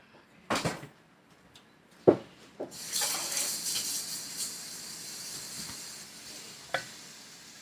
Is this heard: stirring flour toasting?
yes